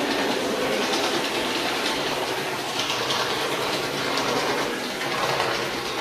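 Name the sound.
CP Rail 1553 switcher model train running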